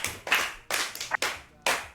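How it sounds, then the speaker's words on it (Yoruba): Audience applause at a Yoruba children's programme, in four short, loud bursts of hand clapping with brief gaps between them. "Onitanganran ẹ pàtẹ́wọ́ fún un."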